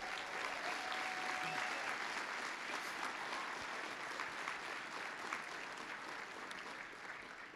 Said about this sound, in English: So let's give the cadets a round of applause.